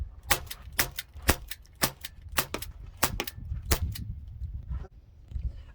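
Crosman Vigilante CO2 air pistol fired in rapid succession, about a dozen sharp cracking shots in an uneven quick rhythm, near and loud, with a little low rumble between them and no talk.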